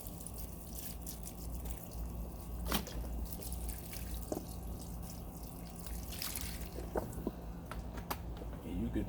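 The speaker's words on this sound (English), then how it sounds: "then you just pour you some of that banana water on there" Banana water fertilizer is poured onto plant soil, producing soft trickles, drips and squishy splashes with a few sharper drops, set over a quiet background hum.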